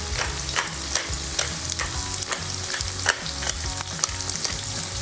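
Egg and potato hash seasoned with kosher salt cooks in a pan with a loud, steady frying sizzle, broken by regular scraping stirs close by, with no talking.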